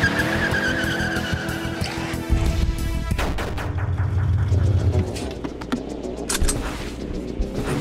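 Gunfire in the run-and-gun game Huntdown: a dense burst of rapid, sharp shots under skidding and engine-like noise, with repeated cracks and booms through a busy, loud mix and no talk.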